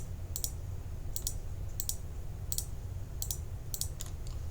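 Mouse clicks while editing UV seams on a character model in 3D software: about seven sharp, evenly spaced clicks, close and fairly faint, over a steady low background hum.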